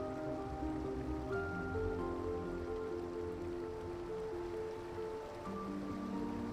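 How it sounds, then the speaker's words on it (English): Spearfish Falls, a waterfall in a South Dakota canyon that drops about 47 feet into a small pool, gives a steady, moderate rushing wash of falling water with no voices. "Spearfish Falls is another notable waterfall in the canyon"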